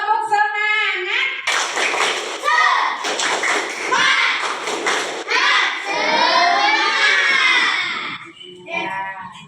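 A group of children in a classroom doing a rhythmic spirit clap: loud, close, patterned bursts of clapping mixed with shouted chanting and children's voices.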